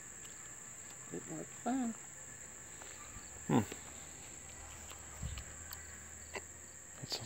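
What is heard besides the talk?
cricket chirping outdoors at night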